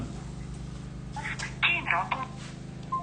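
A telephone ringing on a call, a short electronic tone repeating under a steady low hum and nearby talking.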